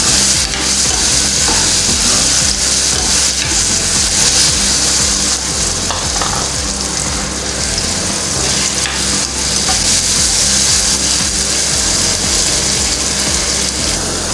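Finely chopped banana frying in ghee for Malabar kinnathappam, with a loud, dense, continuous sizzle and stirring noise that stays steady throughout, close up, no voices.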